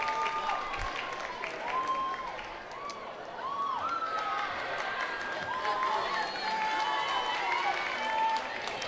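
A crowd at a high school varsity football game cheers and shouts from the stands, a broad, distant roar with scattered yells and whistles, while a voice talks over it.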